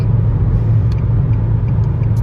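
A 2023 Nissan Versa S with a manual gearbox cruises on the highway at just over 70 mph, giving a steady, subdued low engine and road hum that holds evenly throughout with no voices.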